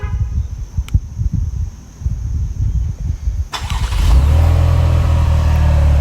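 A 2021 Cadillac XT6 Premium Luxury cranks over with a few sharp mechanical clicks, then its engine and exhaust fire up and settle into a smooth, low, steady idle that stays fairly quiet and even.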